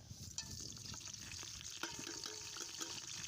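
Onions frying in a pan for chicken biryani, a steady soft sizzle with occasional stirring clinks, close and fairly quiet, with no talk.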